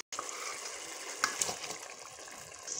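Brain (maghaz) frying in roasted tomato masala in a pan, a steady close sizzle and crackle with a few brief sharper pops partway through.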